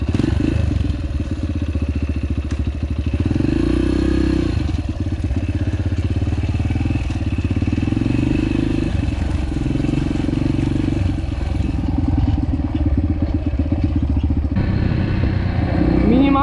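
A Yamaha TTR125 four-stroke motorcycle engine runs steadily at close range, a continuous low, chattering idle with faint valve clatter and small rises in pitch.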